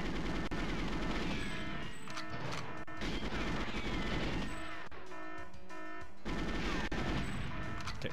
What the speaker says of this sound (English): Come on, there's a sentry gun in here.